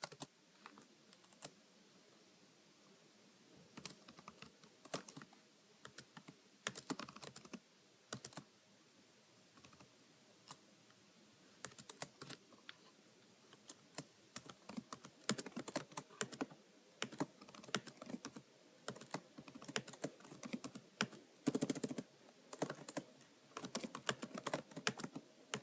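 Computer keyboard keys click in irregular bursts while code is entered, quiet gaps between flurries, with denser, louder rattling stretches toward the end.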